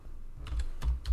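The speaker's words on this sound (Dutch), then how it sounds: "En dan gaan we typen wat we wilden typen." Keys on a computer keyboard are tapped in a short burst of separate soft clicks, close by and quiet, with no voices.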